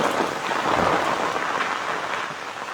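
Steady, fairly loud rain pours down with a light storm wind and a low thunder rumble beneath it, with no voices.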